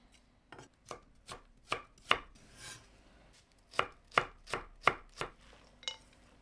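A knife chopping garlic cloves on a cutting board for a spring roll filling, a series of sharp, close, evenly spaced thuds with a brief pause midway, no voices.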